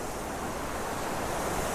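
Athabasca Falls in Jasper, Alberta, heard from across the river as a steady, dense roar of falling water, constant and moderately loud with no other sounds over it.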